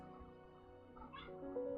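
A cat meows softly and close by, a brief drawn-out cry rising at the end over faint background hum.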